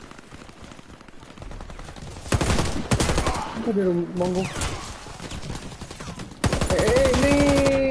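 Bursts of gunfire from the video game Warface on PS4, with rapid repeated shots in dense clusters over game sound, while a voice speaks briefly.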